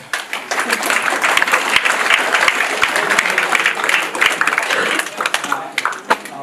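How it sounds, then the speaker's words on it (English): A round of applause from an event audience, steady dense clapping that carries on for several seconds at a consistent level. "round of applause for Robin, please."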